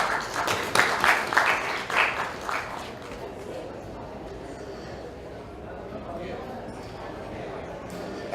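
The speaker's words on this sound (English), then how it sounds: "I think they deserve a round of applause" Audience at a property show claps briefly, a short burst of applause in the first few seconds that quickly fades into quiet room tone.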